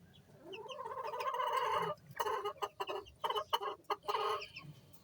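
A chicken clucks close by, starting with a long rising squawk and then a run of short, choppy clucks with brief pauses between them.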